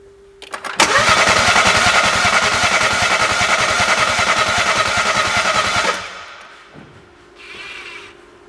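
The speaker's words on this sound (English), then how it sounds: "I'm gonna crank the engine over while you guys look for ignition." A BMW engine cranks over under the starter, a loud steady rhythmic churning that runs for about five seconds without catching, then cuts off, followed by quieter clicks and a brief hiss.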